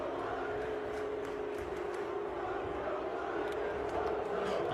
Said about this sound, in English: why are you booing her?